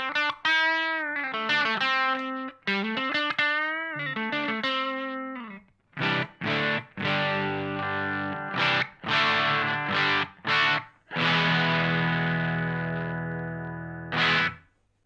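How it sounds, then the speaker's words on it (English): An electric guitar through a Boss BD-2 Blues Driver overdrive pedal plays crunchy, driven chords and single notes, first a choppy rhythmic phrase, then separate struck chords left to ring and sustain, with no talking. "So you can hear that there's quite a lot of range between the gain and the tone control."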